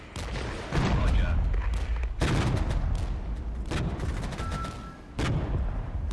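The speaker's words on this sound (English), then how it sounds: "That's just a mortar unit" Mortar unit firing in the video game Regiments, heavy booming blasts landing at irregular intervals, each with a rumbling tail, mixed with scattered gunfire crackle in the background of a battle.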